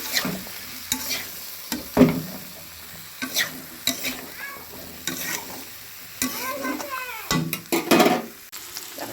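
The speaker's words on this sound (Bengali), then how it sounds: "ভাজা ভাজা করে দেবো তেলে।" Vegetables sizzle and fry in hot oil in a heated wok, with repeated sharp bursts of stirring, scraping and crackling up close.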